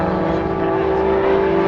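Lycoming piston engines of Firebirds X-treme Team aerobatic planes held in a torque roll at an air show, a steady, loud droning hum with a sustained buzzing tone and no voices.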